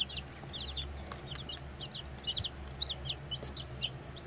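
Backyard hens, including gray Cochins and larger Ameraucanas, cluck in a coop, with quick repeated clucks over a low steady hum, moderately near.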